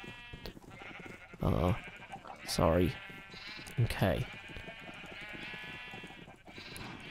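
Sheep in the Minecraft video game bleat several times, three loud wavering calls spaced a second or so apart, while a person talks softly in the background.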